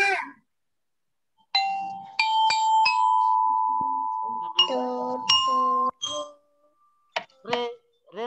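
A belera marching lyre struck during drum band practice gives bright metallic bell tones, single notes and a held ringing tone, in short separated phrases, close and clear, with brief speech between them.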